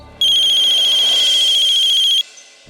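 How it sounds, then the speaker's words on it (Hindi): A mobile phone ringtone sounds once, a bright, buzzy electronic tone held steady for about two seconds, close and loud, then cuts off. "एक सेकंड दोस्त, फोन है।"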